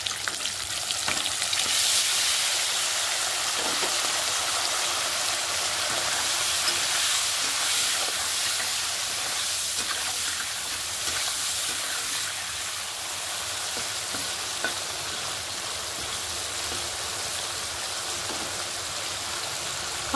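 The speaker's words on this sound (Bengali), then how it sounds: "হালকা একটু ভাজা নিব, বেশি ভাজতাম না" Paneer fries in hot oil with salt and turmeric, a steady, close sizzle and hiss that holds its level throughout, with a few faint clicks of stirring.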